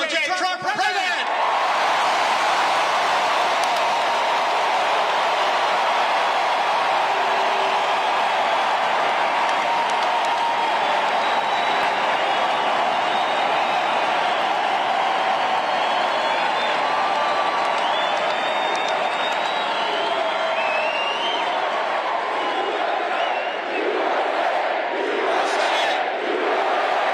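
A large political rally crowd for Donald Trump in Bozeman, Montana roars in a long, loud, unbroken mix of applause, cheering, whoops and shouting that holds at full intensity from start to finish.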